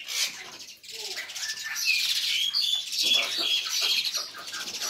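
Bali mynas call and chirp nearby, a busy mix of sharp whistles and chattering notes that overlap almost continuously.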